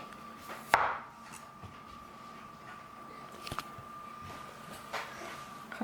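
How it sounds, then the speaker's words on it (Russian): A plate drops onto a kitchen floor without breaking: one sharp, fairly loud clatter near the start with a short ringing decay, then a quiet room with a faint steady hum and a few small soft knocks later on. "Тарелка упала."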